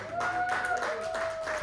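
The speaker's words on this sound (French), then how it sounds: "On peut les applaudir bien fort." Audience applause at a show rehearsal rises as a soft, continuous patter beneath a sustained whistling tone, with a voice briefly audible.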